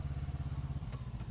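A Voge 500R motorcycle idling nearby, a steady throbbing engine pulse with a slight mechanical clatter, continuous and fairly loud with no voices over it.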